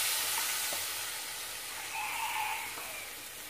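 Ground tomato paste goes into a frying coriander masala for brinjal kootu, giving a soft continuous sizzle with faint stirring taps, fairly quiet and without speech.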